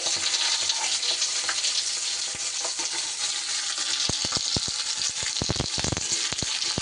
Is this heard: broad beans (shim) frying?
yes